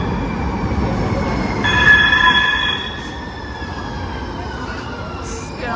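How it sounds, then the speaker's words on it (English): A rumbling San Francisco Muni metro train arriving at a station, with a drawn-out metallic squeal of wheels on rails, steady and fairly close, easing off into continuous rolling noise. "let's wait for our metro."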